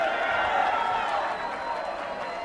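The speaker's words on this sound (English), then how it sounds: "You could hear the crowd yelling as well" Spectators at a 1999 World Vale Tudo Championship fight in Brazil keep up a continuous roar of yelling and cheering, a dense, fairly loud crowd wash with no single voice standing out.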